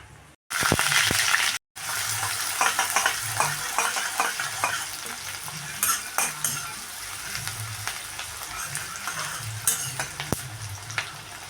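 Chinta chiguru (tender tamarind leaves) and mushrooms fry in hot oil with a steady, loud sizzle, broken by a brief cut near the start, while a spoon stirs and scrapes the pan now and then.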